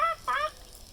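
Chickens giving two short, close clucking calls in quick succession over a quiet background.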